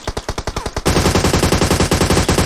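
Gunfire in the mobile shooter PUBG Mobile: a fast, evenly spaced automatic burst, then a louder, denser stream of rapid shots close by, with no talking.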